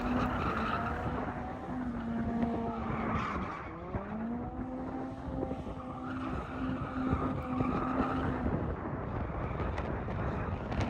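A car engine revving high and steady nearby while driving around cones at a track, pitch sweeping up and down as it maneuvers, with tire noise and continuous roar throughout.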